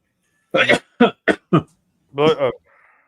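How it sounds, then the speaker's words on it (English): Several short, sharp bursts come in a quick series, then a longer rough burst, a throat sound like coughing heard close up with no talking, during a Yankees–Red Sox baseball broadcast. "That was a cough."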